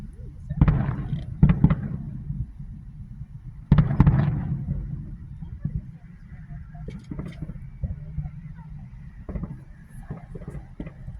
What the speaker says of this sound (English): Fireworks, and lots of them.